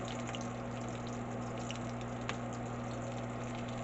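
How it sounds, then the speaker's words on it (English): Chimichangas fry in hot oil with a constant, fairly faint hiss and splatter, marked by a few small pops and no talking. "You gotta watch out for that splatter."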